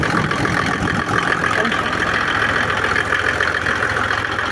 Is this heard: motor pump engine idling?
yes